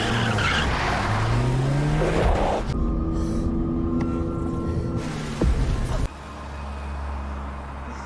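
A film car skids with long rising and falling tire squeals, then a sharp thud of impact against a barrier followed by a low rumbling hum, loud and close.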